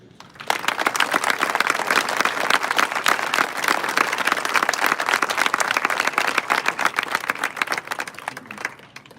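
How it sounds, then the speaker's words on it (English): An audience at a National Honor Society induction ceremony applauds the new members with dense, sustained clapping that starts abruptly and holds steady for several seconds in a hall. "Please join me once again in applauding all of our new Honor Society members."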